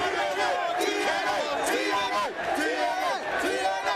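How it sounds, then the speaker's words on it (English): A large arena crowd at a TNA professional wrestling event cheers and chants loudly, a sustained roar of rising and falling voices that fills the space, with no break. "Oh, the crowd."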